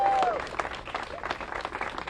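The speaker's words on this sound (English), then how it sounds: "Give Senator Durbin a great big round of applause." Crowd applause for Senator Durbin at a Senate Democrats event on voting rights legislation, a short burst of steady clapping that swells and fades unevenly, moderately loud, with a brief voice at the start.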